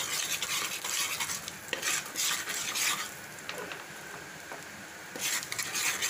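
Grated coconut fries in oil while being stirred slowly, a continuous crackling sizzle with swelling bursts and light utensil scrapes against the pan, heard up close without speech.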